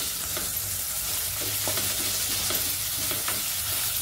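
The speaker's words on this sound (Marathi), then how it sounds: "आलं लसणाची पेस्ट अशी तेलात चांगली परतून घ्यायची आहे" Ginger-garlic paste sautés in hot oil in a pan, giving a steady bright sizzle close up, broken by light scraping taps of a spoon as it is stirred, with no one talking.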